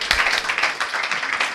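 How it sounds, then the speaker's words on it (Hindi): A classroom of students clapping loudly for a classmate: dense, rapid overlapping claps close by, steady for the whole stretch with no break. "ताली बजाओ उसके लिए बड़ी जोर की।"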